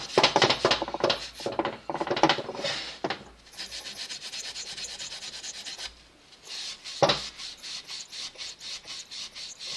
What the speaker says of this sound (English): which I'm just going to take off with a bit of fine Scotch-Brite